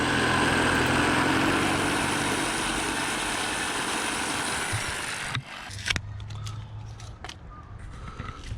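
A drill runs continuously at close range into a stuck locking wheel bolt, giving a loud, steady grinding whine that cuts off after about five seconds and leaves quieter clanks and handling noises.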